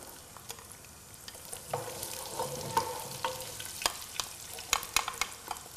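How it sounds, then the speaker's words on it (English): Chopped onion frying in a hot pan, a soft steady sizzle with occasional stirring scrapes, close and moderately quiet, with no talking. "I can hear my fire heating up there, and I'm just gonna put in one whole chopped onion."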